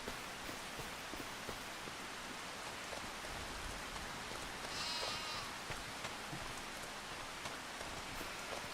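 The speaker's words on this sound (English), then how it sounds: "when is the rain gonna stop?" Steady rain falling in the farming video game Farming Simulator 25, a constant dense patter that fills the scene throughout, with a brief animal bleat or call briefly rising over it midway.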